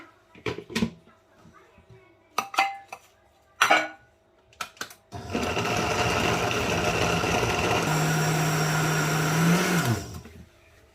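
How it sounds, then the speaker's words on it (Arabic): Electric blender grinding ingredients for a flourless cake, a loud steady whir running about five seconds before winding down, preceded by clinks of utensils and bowls while preparing. "وغادا نطحن دابا كلشي"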